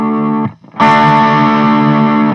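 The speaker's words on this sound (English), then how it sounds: "That's a tube screamer" An electric guitar through a Tube Screamer overdrive pedal, warm and crunchy, plays a chord, stops briefly, then rings out a longer sustained chord, loud and close.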